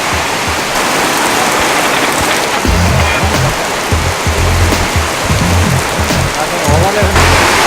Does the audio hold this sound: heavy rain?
yes